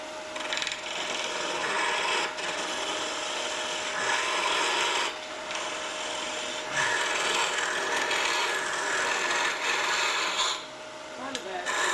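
Lathe tool hollowing out a small wooden box, giving a continuous close scraping and cutting hiss with brief dips in level as the tool shifts through the cut, running steadily with no speech.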